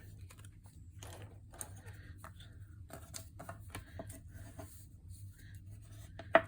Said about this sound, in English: Crease that down because this black cardstock is so thick.